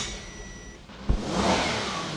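A budget sleeper car engine on its first start, with a sharp crank or catch followed by a building, uneven rev that holds loud and steady near the microphone. No voices are heard.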